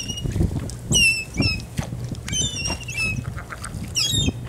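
Birds call repeatedly near a crab fishing spot, with several high, sharp cries and squawks close by over a low, steady rumble of background noise.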